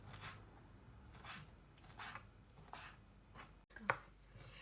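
Raw shrimp being chopped into small pieces for ceviche, a run of soft, evenly spaced knife strokes on a board with one sharper knock near the end, close and fairly quiet.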